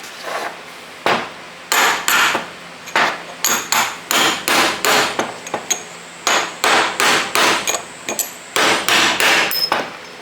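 Repeated metal hammer blows drive out a damaged bearing from a Harley-Davidson 4-speed transmission, about two dozen sharp, close strikes in uneven bursts with short pauses, no talking.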